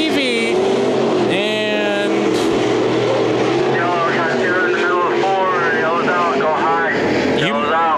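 Sport mod race cars on the dirt at Bakersfield Speedway roar past loudly, their engines climbing and falling in pitch as several cars pass in turn, while a commentator talks over the racing.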